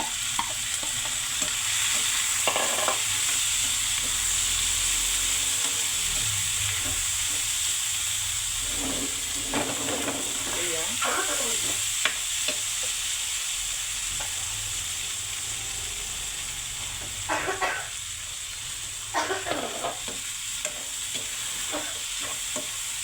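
Corn kernels and cubed shrimp fry in a pan, a steady sizzle running throughout, broken by scraping stirs and clatters of the utensil at intervals.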